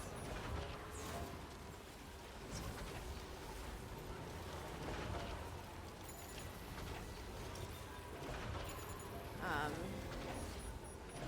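Steady rainfall in the video game Death Stranding 2, a faint continuous hiss of rain spread across the whole stretch with a few soft clatters and tones, under quiet talk.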